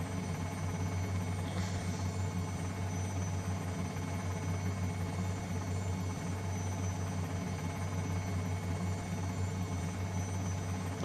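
Robinson R44 Raven II helicopter in Microsoft Flight Simulator, a steady low rotor and engine drone with constant buzzing hum, moderately loud and unchanging, no talking.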